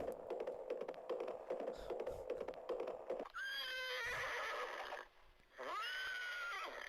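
A horse in a horse-racing video game whinnies twice, loud and shrill, after a stretch of busy background noise with clip-clopping hooves.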